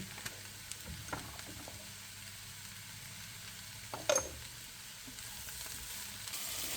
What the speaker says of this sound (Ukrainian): Цибулька в мене вже обсмажилась і тепер до неї додаю гриби, які я нарізала.